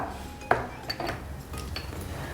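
Whole spices such as bay leaves and cloves drop into hot oil in a pan, with a sharp metallic clink at the start and then soft clatters and faint sizzling.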